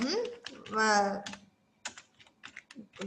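Typing on a computer keyboard produces scattered, close key clicks in short bursts, with a person speaking at the start.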